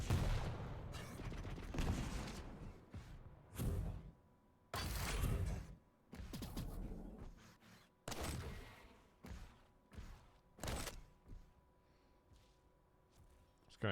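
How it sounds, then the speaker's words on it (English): Machine-gun fire in the arena shooter Quake Champions during a competitive match, coming in repeated loud bursts with short gaps between them. "That machine gun is hurting a lot."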